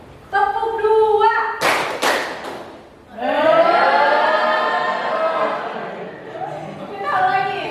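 A classroom of children claps in quick sharp bursts during a counting clap game, loud and close, with a teacher speaking between the rounds.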